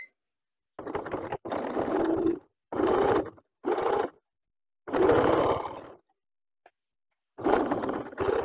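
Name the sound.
sewing machine stitching raglan sleeve darts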